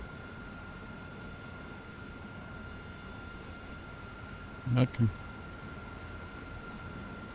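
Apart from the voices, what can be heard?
AV-8B Harrier jet engine running in DCS video game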